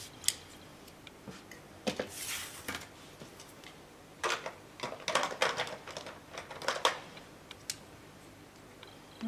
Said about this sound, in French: Donc je découpe tout autour.